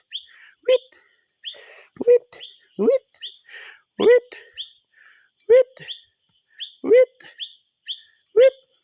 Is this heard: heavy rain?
no